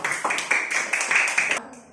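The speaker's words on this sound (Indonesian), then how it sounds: "Tepuk tangan untuk kelompok 1." A classroom of pupils claps for group 1 in a rhythmic, unison pattern of about seven quick bursts, close and lively, stopping abruptly before a short quiet tail.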